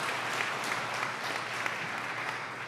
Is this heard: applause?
yes